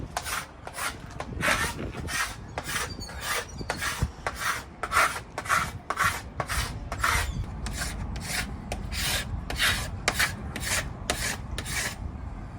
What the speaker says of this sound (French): Là, on va gratter pour faire l'antifouling, là.